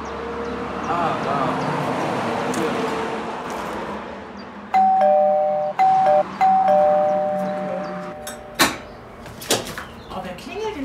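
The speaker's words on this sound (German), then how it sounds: "Oh, wer klingelt denn da schon wieder?" A doorbell rings with a clear sustained chime tone, followed by several shorter repeated rings and a door knock, after louder background noise.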